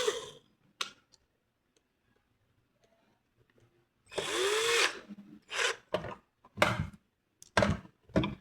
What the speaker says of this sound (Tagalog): Ato ang drill.